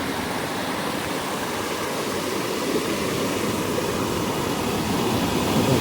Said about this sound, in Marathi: हे पाणी हे असं येतं इथून इकडे खाली जात आहे